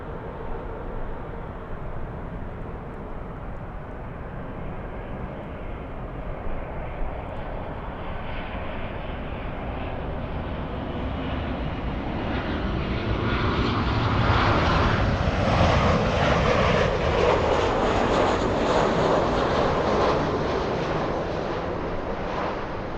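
A Lufthansa Boeing 747 takes off at LAX, its jet roar building steadily and peaking midway before easing slightly, heard from a distance with no voices.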